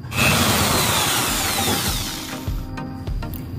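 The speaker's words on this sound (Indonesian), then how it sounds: "yang ini kita kasih bor menggunakan bor mata gerenda" A power drill fitted with a ceramic grinding bit bores into PVC pipe, a loud, harsh whirring grind that starts at once, eases off slightly, then stops with a few short rattles at the end.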